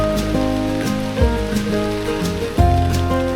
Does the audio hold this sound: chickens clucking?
no